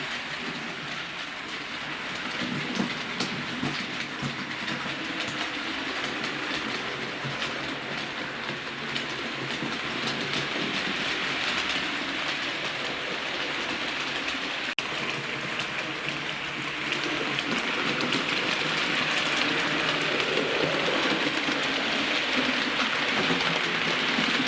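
Model train of the Duchess of Hamilton locomotive, a limited edition R2689, running on its track with a steady rushing, rattling hiss that grows slightly louder toward the end.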